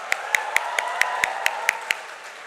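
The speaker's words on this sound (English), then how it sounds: "May we please have a big, big round of applause for him." Slow, evenly spaced single claps ring out about nine times in a hall during a college orientation program for a startup founder guest speaker, each sharp and distinct over a faint background hum.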